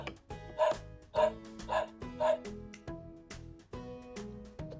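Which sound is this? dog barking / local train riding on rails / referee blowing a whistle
dog barking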